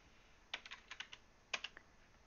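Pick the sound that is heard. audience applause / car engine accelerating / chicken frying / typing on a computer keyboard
typing on a computer keyboard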